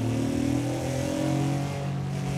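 Honda NSX sports car engine pulling hard in second gear, a loud, close mechanical drone with strong harmonic layers that climb steadily in pitch as revs rise, no talk.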